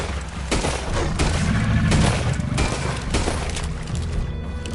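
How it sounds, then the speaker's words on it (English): Heavy, sustained video-game gunfire as several players pour every bullet into an approaching enemy in a PS4 game, loud overlapping bursts and booming shots rattling continuously through the stretch. "Put every bullet you got in him!"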